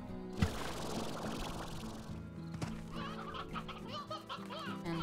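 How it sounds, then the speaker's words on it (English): A stony hen in the video game Slime Rancher clucks amid dense game music and ambient sound, one sharp cluck early and another later, fairly faint in the mix, with no talking. "Hen, stony hen."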